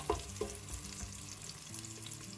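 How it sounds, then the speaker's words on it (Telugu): Mint leaves fry in a pan with a soft, steady sizzle. Two faint clinks of a utensil come early on, and the frying stays low and even throughout the short stretch. "ఇప్పుడు వీటన్నిటిని 1 నిమిషం వేగనిద్దాం."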